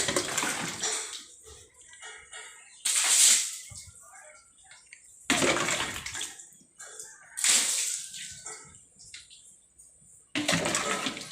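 Water poured out in bursts for cleaning at home, several loud splashing gushes separated by quieter gaps, close by with no talk.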